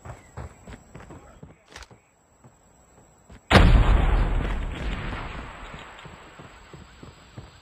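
A frag grenade blast in Call of Duty Mobile, a sudden loud explosion with a long rumbling tail, preceded by scattered sharp gunshots and footsteps during a search-and-rescue match.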